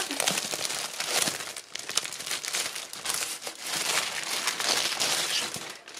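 A wrapped package of scrapbooking papers and a sticker sheet is torn open by hand, giving continuous close crinkling and crumpling of plastic wrap with irregular bursts, no talk.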